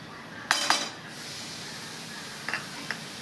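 A few sharp utensil clinks against a pan while red chilli powder, turmeric and paneer masala are mixed for dhaba-style butter paneer, two strikes early and two lighter taps later over a steady low background hiss.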